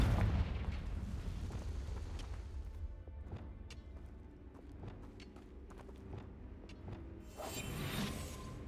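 A Confringo fire spell blast in Hogwarts Legacy, a heavy burst at the start followed by crackling impacts and another whooshing surge near the end, with no talking.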